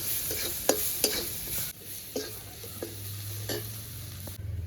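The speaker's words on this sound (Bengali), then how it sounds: "এবারে হালকা করে রসুনটা ভেজে নেবো" Crushed garlic with a pinch of turmeric and salt frying gently in oil, a quiet close sizzle punctuated by repeated sharp spatula taps and scrapes on the pan.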